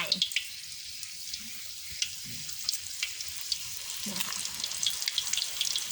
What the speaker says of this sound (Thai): ตั้งกระทะใส่น้ำมันนะคะ ให้น้ำมันมัน ร้อนเบาๆนะคะ เนี่ยค่ะ แล้วก็ทอดลงไป